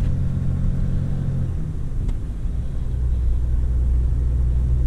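A pickup tow vehicle in tow/haul mode drives through town, a deep steady engine rumble that shifts in pitch as it accelerates, close and loud with no talking.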